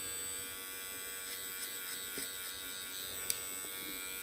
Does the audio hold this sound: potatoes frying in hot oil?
no